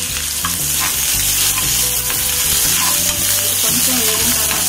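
Chopped onion and garlic fry in hot oil for a Telugu lentil dish, giving a loud, steady sizzle with stirring scrapes close by and no talking.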